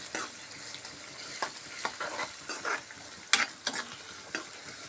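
Garlic and hot green chillies fry in a pan while being stirred, with a steady soft sizzle broken by repeated scraping strokes of a spoon, close and moderately quiet, and no voices.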